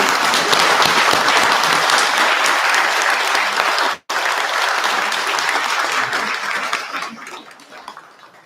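A crowd at a centenary Mass for a hanok-style Catholic church in Jincheon gives loud, sustained applause, a thick continuous clatter of many hands that breaks for an instant midway and fades toward the close.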